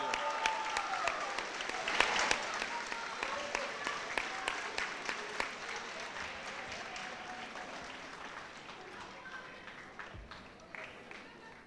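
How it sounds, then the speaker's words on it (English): Audience at an 8th grade recognition ceremony applauds parents and guardians, a sustained wash of many hands clapping that swells early and slowly fades over about ten seconds, with some voices mixed in. "let's give them a big round of applause for all the love and support that they offer to you"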